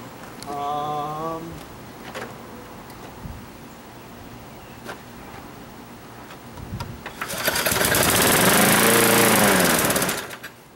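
Small gasoline engine on a yellow machine that needs carburetor work, starting with a brief stutter, then running as a loud, buzzy, steady drone near the end before cutting off.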